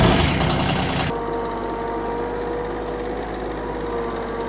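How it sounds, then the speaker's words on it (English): A tractor with a bush hog mower attached idles steadily with a low, even rumble after a brief louder burst at the start; no voices. "I got the bush hog on the tractor"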